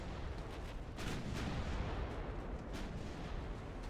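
Rumbling salvos from 9-inch naval guns firing broadside in Ultimate Admiral Dreadnoughts, a continuous low roar of distant booms blending together without clear separation.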